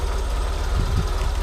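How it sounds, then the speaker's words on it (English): Steady low rumble of a 1991 Toyota Celica GT engine idling a bit low, continuous and close, with slight uneven pulses and no talk. "Idling's a bit low, so we'll adjust the idle on this."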